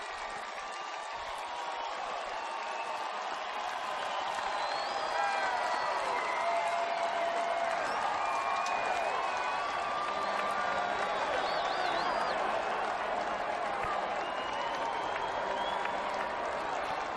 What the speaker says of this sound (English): listen to this crowd at Paulson Stadium